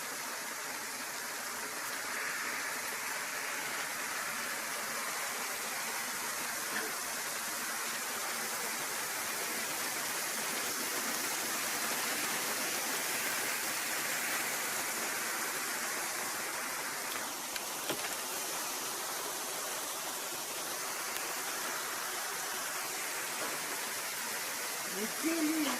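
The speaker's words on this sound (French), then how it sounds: "Le déluge de grêle" A heavy hailstorm downpour roars as a dense, steady hiss of hail and rain pelting surfaces, continuous and enveloping for the whole stretch, with no clear voices.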